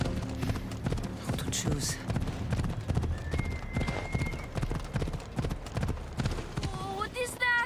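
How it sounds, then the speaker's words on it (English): Horse hooves in Assassin's Creed set in ancient Greece, 422 BC: a steady rapid clip-clop of close, loud hoofbeats throughout, with a brief whinny near the end and a voice talking over it. "I need to take this horse either to Adonis or to the stable boy."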